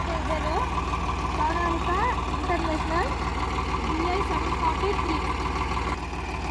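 A second-hand farm tractor engine runs in a steady, low, throbbing idle, close and continuous, while a person talks over it.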